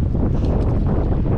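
Strong wind buffets an open-water kayak on a fishing outing, a loud continuous low roar and rumble with steady gusting turbulence and no pauses.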